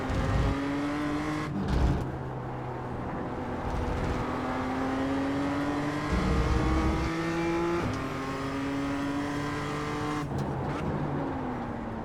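A BMW M2 lapping Okayama circuit, engine droning steadily with rising revs through the gears, brief sharp drops at upshifts and lifts, loud and close, with no talk over it.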